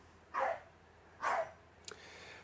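A dog barks twice, moderately close, with a short, faint yelp shortly after, set against a quiet background in a motorcycle workshop.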